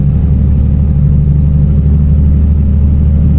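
Deep, steady truck engine drone from American Truck Simulator, with a heavy low rumble and a constant mid-range hum as the rig cruises on a gravel dump run. It stays loud and even, with no talk over it.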